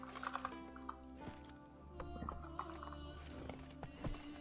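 Galloping horse hooves in The Witcher 3, a steady clip-clop rhythm mid-distance with a brief whinny, over a low in-game music bed.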